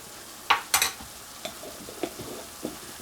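Salmon stir fry with sprinkled curry powder cooking in a pan, heard as a few short scraping stirs and soft sizzle bursts, close and fairly quiet with gaps between.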